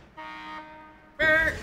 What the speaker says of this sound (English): That's a hockey horn.